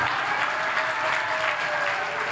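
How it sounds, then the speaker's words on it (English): A church congregation claps hands, a dense steady wash of many hands clapping at once, loud and continuous, with no talk. "Let's clap hands for Jesus."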